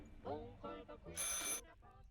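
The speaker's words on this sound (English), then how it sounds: "A phone call." A video game telephone rings in a bright electronic burst, loud and brief, set among talk before and after it.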